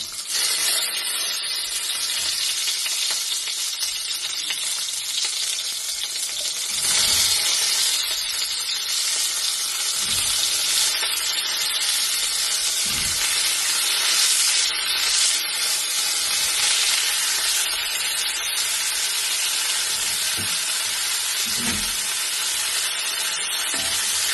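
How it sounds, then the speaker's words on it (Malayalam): Cauliflower fries in butter for a cauliflower, carrot and potato gravy, producing a loud, unbroken sizzle held close for a long stretch, with occasional soft stirring knocks beneath the hiss. "പിന്നെ കോളിഫ്ലവർ ഒന്ന് ബട്ടറിൽ നന്നായി വാടി വരണം."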